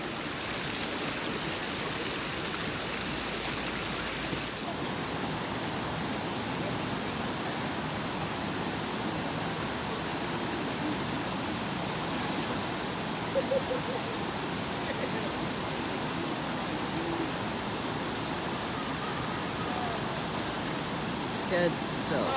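A river on the Bolaven Plateau in Laos rushes over small waterfalls, making a steady, broad hiss of flowing water that holds constant throughout.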